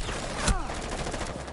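A single shotgun blast in the Rainbow Six video game, a sharp close report with a short ringing tail, heard alone.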